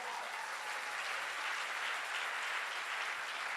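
A church congregation applauds to acclaim the king, a steady, dense wash of clapping that holds at an even level throughout without pause.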